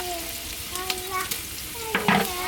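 Onions frying in a pan with ginger and garlic paste and spices give a steady sizzle, with scraping stirring strokes and a louder burst of crackle near the end, where a voice speaks briefly.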